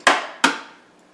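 An egg cracked against a hard edge for a chicken nugget mixture with chives and Parmesan, two sharp close taps in quick succession, each decaying quickly.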